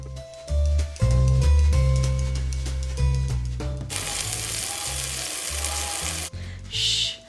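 Olive oil sizzles as overripe tomatoes blister in a seasoned pot, a loud crackling fry that steadies into a dense hiss after clattering pan and utensil knocks at the start.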